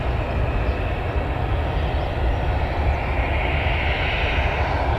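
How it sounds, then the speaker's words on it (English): An EasyJet airliner taxis at Newcastle Airport, its jet engines giving a steady, loud, broadband roar that holds level throughout with no speech. "EasyJet just taxiing there"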